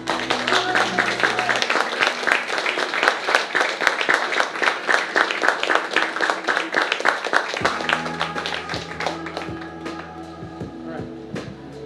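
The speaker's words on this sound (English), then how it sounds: "I want to give you all a wonderful round of applause" Workshop audience at a trauma recovery session on Paradise Island claps steadily for about eight seconds in a dense, close round of applause, with soft sustained music tones running underneath and continuing as the clapping thins out.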